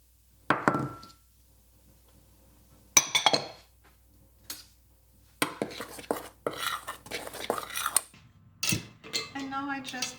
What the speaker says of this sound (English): now I'm mixing the flour and the cocoa powder